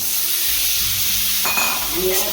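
Boiled chickpeas with turmeric, red chili and salt sautéing in a pan: a steady close sizzle with stirring scrapes of a spoon against the pan.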